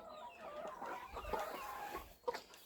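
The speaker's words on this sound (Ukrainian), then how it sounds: "Це та сіра квочка, що там десь ходить, де вона." A broody grey hen in a farmyard coop clucks softly and steadily up close, with a louder cluck near the end and no talk over it.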